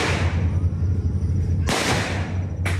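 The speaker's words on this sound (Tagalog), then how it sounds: "Dinig sa video ang sunod-sunod na putok ng baril na umabot sa higit 5 minuto" Rapid gunfire from an armed encounter between drug agents, Philippine Marines and a syndicate at dawn in Tawi-Tawi, with sharp distant bursts of shots cracking over a low steady rumble.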